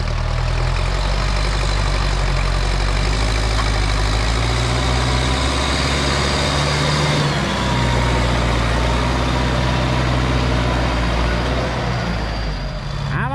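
A heavy diesel farm tractor engine runs steadily and loudly throughout while pushing clay soil, its low rumble shifting pitch midway as the load changes, with no voices.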